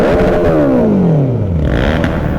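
A loud Suzuki Hayabusa sport motorcycle engine revs hard, its pitch sliding steadily downward as it winds back, then settles into a rougher, lower rumble.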